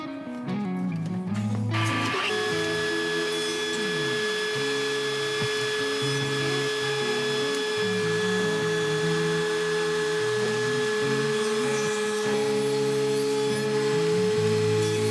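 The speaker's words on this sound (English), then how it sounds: "make a test cut, and then adjust slowly up to my mark" A power tool making a test cut in solid oak shelf edging for cupboard shelves spins up after about two seconds into a loud, steady high whine. The whine holds unbroken to the end, with no talking.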